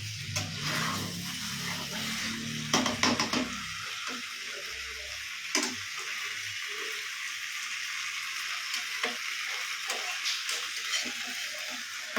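Vegetable curry frying in a pan, a steady soft sizzle with scraping stirs in the first few seconds, then continuous low frying noise.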